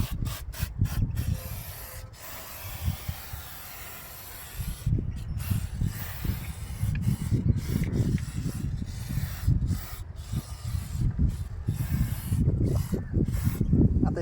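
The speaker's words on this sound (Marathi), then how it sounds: "खूप इझिली स्प्रे होतो आहे." Rat shield aerosol spray hisses steadily over cables, hoses and wiring in a car engine bay, a rough continuous spray with short pauses between bursts, close and moderately loud.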